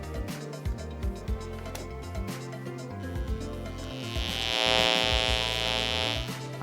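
An Arduino-driven passive buzzer drones a low, rough pulsing tone, with a brighter whining hum swelling in over the last few seconds.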